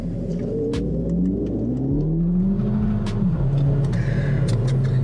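A 2008 Volkswagen Golf GTI MK5 hot hatch engine revs hard under full acceleration, its pitch climbing steadily through the gears in a loud, continuous, close-up drone with no talk over it.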